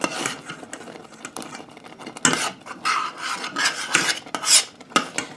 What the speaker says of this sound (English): I'm scraping the bottom and sides of this as it cooks